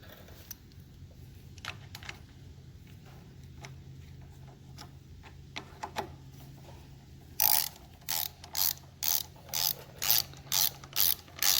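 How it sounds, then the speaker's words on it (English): A ratchet turns 10mm bolts on a Generac power washer, first light scattered clicks and taps, then a run of loud, rapid ratcheting bursts in a regular rhythm close by. "So now we're going to put our 2 bolts on here. And again, these are 10mm."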